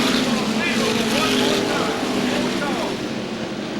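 SK modified race cars with 400-horsepower engines roar around the Waterford Speedbowl in a loud, continuous pack drone, with a track announcer talking over the engines.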